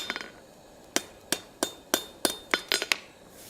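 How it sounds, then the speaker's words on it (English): A hammer strikes a forged steel ladle on an anvil, landing about ten sharp metallic blows in an uneven rhythm with ringing clinks. The blows are close and moderately loud, with no talking. "Hammering that right on the flat."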